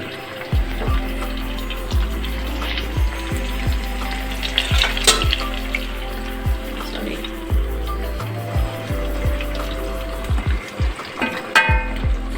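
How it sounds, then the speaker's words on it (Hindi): Vegetables frying in a pan while a steam roast mutton leg is prepared. A loud, continuous sizzle runs over a low hum, broken by regular clinks and stirring knocks. "ये आप देख सकते हैं बड़े अच्छे तरीके से फ्राई हो रहा है"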